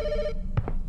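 A telephone ringing inside a horror video game set at a gas station, a single electronic ring burst that cuts off, followed by two soft thumps.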